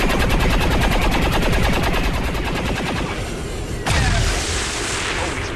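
Rapid automatic gunfire from the video game XCOM 2 rattles loudly in a fast burst, then a heavy boom and a lingering rumble.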